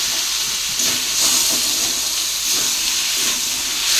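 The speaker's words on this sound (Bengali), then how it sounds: "গ্যাসটাকে আস্তে দিয়ে সুন্দর করে কষিয়ে নেব।" Potatoes and spices sautéing in a pan over a low gas flame, a steady, dense hiss and sizzle that runs unbroken throughout with slight swells in intensity.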